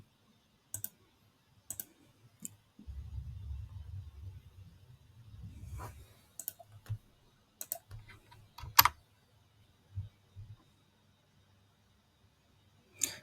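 Sparse computer keyboard taps and mouse clicks, quiet and close, come in short irregular bursts with a brief low rumble partway through.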